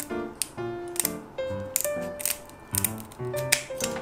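Kitchen scissors snip through the shell of a giant shrimp being broken down for cooking, giving a series of sharp, close crunching cuts in an irregular rhythm with short pauses between, and no talk.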